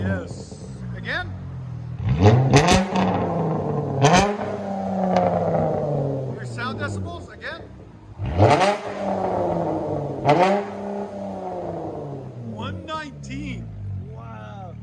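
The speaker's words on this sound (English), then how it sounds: "Charger GT V6. Straight pipes." 2013 Dodge Charger GT V6 with AWD, 3.6L engine and straight pipes fitted with Purple Hornet glass packs, revved hard several times in close, rising roaring bursts that fall back to a rumbling idle, with people talking over it.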